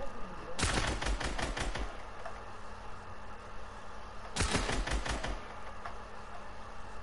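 Two distinct bursts of rapid gunshots in a video game, each a quick cluster of sharp cracks separated by a few seconds of quieter background.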